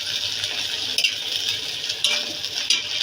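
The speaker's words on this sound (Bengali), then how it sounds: "এখন মাছটাও ভেজে নেব।" Shrimp frying in a pan, a steady broadband sizzle of hot oil with small crackles and pops, close and continuous throughout.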